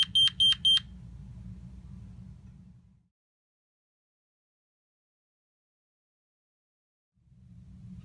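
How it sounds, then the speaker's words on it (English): Security alarm system exit delay: three quick, loud electronic beeps at the start over a steady low hum, which fades out and returns near the end after a stretch of silence. "Wait for the exit delay beeps to stop before proceeding on to the next step."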